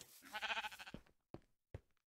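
A sheep in Minecraft gives one wavering, quavering bleat, followed by a few short soft thumps like footsteps in a quiet setting.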